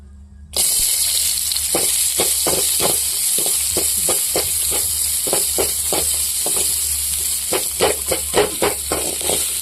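Sliced onions sizzle steadily in hot oil while being fried golden for goat blood poriyal, a constant loud hiss broken by frequent crackling pops and stirring scrapes, starting abruptly and continuing throughout with no talk.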